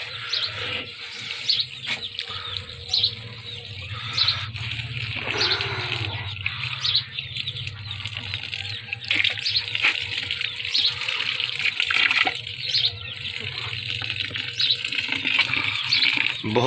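Water pours and splashes steadily into a herbal cooling sherbet mixture, a continuous gushing trickle with small bursts, close and moderately loud, with no voices.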